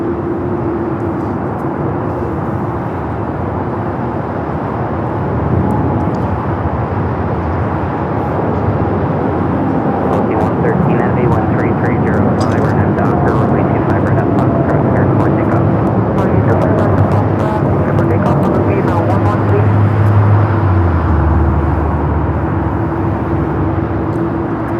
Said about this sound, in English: This is the 787-8 Dreamliner with American.